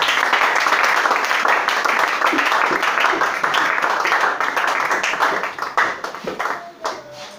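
A church congregation at a French-language worship service bursts into loud, dense applause, many hands clapping together close by, then thins out into scattered claps as it fades toward the end.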